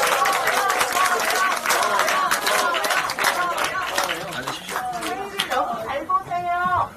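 Dense, steady applause from a party members' gathering greets a lawmaker, filling most of the stretch with clapping while voices and a presenter's talk run over and through it before the clapping thins near the end.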